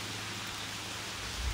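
Heavy rain pours at Tonoyama Tunnel, a steady dense broadband hiss with no letup and a brief low rumble near the end.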